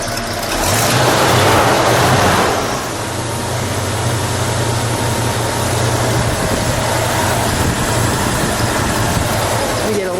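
A 1966 Ford Country Sedan wagon engine idles with a steady low rumble after a brief rev at the start, continuous and close.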